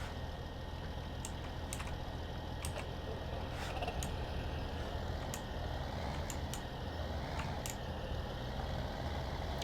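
Farming Simulator 2017 tractor backing up a trailer: a steady engine drone runs throughout, with repeated short high reversing beeps cutting through at intervals.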